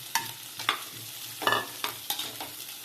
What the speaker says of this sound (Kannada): ಬೆಣ್ಣೆ ಹಾಕ್ಬಿಟ್ಟು ನಾವು ಸ್ವೀಟ್ ಕಾರ್ನ್ ಇಟ್ಕೊಂಡಿದ್ದೀವಲ್ಲ ಅದು ಫ್ರೈ ಮಾಡ್ಕೊಳ್ಳೋಣ